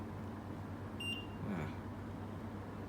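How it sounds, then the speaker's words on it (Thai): A Saijo Denki air conditioner answers a remote's set button with a single short electronic beep, faint against a steady background hum, with no talk. "มันก็จะแจ้งเตือนนะครับปิ๊บกลับมา"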